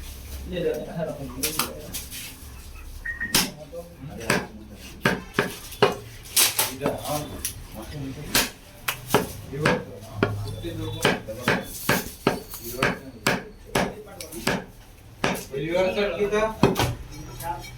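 Butcher in a Hyderabad meat shop chops goat leg pieces with a cleaver, sharp irregular thwacks on a block, near and loud, while people talk and pigeons coo in the background.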